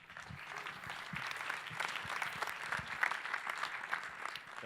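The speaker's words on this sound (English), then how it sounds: "so let's give him a big applause." A large conference audience at How to Web 2013 breaks into applause for speaker David Bizer, formerly of HackFWD. Sustained clapping swells at the start and stays fairly even, heard from a distance in a big hall.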